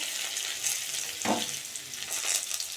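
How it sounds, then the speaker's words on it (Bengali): Chalta and boiled rice sizzle steadily in a frying pan, a close, continuous hiss of frying with one distinct stirring scrape midway through. "দিয়ে একটু নাড়াচাড়া করে ভাজা ভাজা করে নিয়ে তারপর গুড় দিয়ে দেবো"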